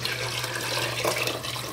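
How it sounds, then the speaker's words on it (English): Water poured from a container into a pot of Zuppa Toscana soup in a home kitchen, a steady close splashing trickle lasting under two seconds over a low electrical hum, with no talking. "Okay, here's the last of the water."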